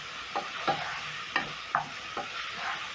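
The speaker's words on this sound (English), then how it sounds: "medium low flame, I'm going to cook my tomatoes until cooked through." Tomatoes with paprika fry in a pot over medium-low flame while a utensil stirs them, a soft sizzle broken by about six scraping stirs at irregular intervals.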